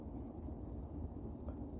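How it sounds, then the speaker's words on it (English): Steady high insect trilling, like crickets, sounds outdoors at night, a continuous thin drone held over a low rumbling background and fairly quiet throughout. "you can hear the crickets"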